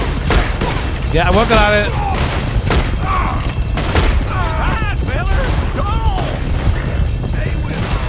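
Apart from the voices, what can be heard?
gunshots and dynamite explosions in video game Red Dead Redemption 2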